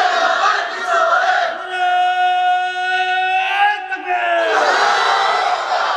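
A large crowd chants slogans in unison at an outdoor Islamic religious sermon (waz) in Rangpur, loud massed voices rising in drawn-out rhythmic calls, swelling and falling across several seconds.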